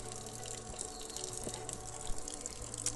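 Desalinated drinking water made from ocean water runs from a tap in El Salvador, a soft, steady, continuous gushing stream with no talking.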